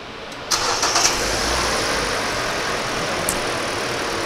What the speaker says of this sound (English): So what you're going to do is start the car up.